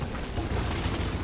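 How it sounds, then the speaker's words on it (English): In the Gears of War 4 video game, enemies smash through walls, heard as a dense, continuous roar of crashing debris and heavy impacts that stays loud and steady throughout. "They're smashing through the walls!"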